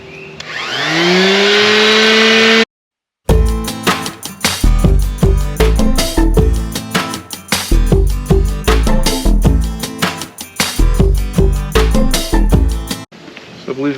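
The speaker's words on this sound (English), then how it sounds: "this is an orbital sander that I'm using" An orbital sander sanding car paint whirs in loud, uneven bursts with stuttering rhythm, preceded by a brief rising whine and a short gap of silence.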